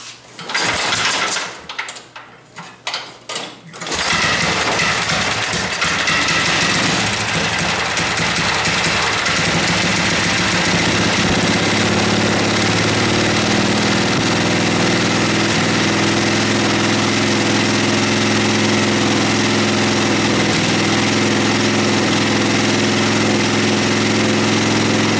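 A John Deere 56 tractor engine cranks with a few choppy turns and then catches, settling into a steady, loud, close idle that drones on evenly for the rest of the time.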